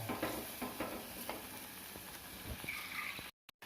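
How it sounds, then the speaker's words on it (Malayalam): Soft bubbling and simmering from a pot of anchovy fish curry on the stove, a low steady liquid churn with occasional small pops, close by. "ഇനി ഇതൊന്ന് തിളക്കട്ടെ"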